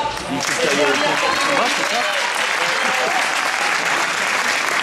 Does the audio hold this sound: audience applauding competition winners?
yes